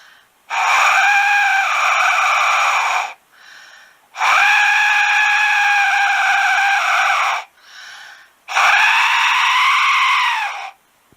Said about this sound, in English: I think it sounds like a lousy whistle